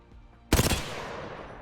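Gunfire from a weapon in the shooter game Apex Legends erupts after near silence as one sharp, loud burst of rapid shots, followed by a short decaying tail.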